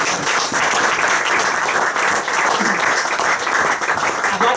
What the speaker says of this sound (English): A big round of applause for all three